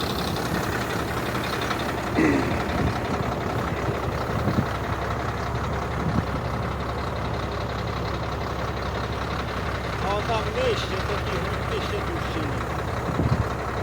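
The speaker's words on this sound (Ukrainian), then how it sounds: "А трактор як? Хватає мощів мотора." A John Deere 6610 tractor pulls a Lemken 110 plow deep through hard, compacted field soil. The engine drones steadily throughout, and people talk over it.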